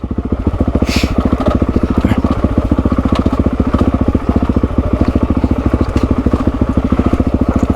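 A motorbike engine chugging in a steady fast rhythmic thump as the bike rides down a steep, greasy track, loud and close throughout.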